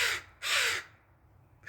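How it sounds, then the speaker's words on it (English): Crows caw outdoors in a garden of sage plants, giving three harsh, raspy calls separated by short pauses, fairly close and clear, with no talking over them. "getting interrupted by crows."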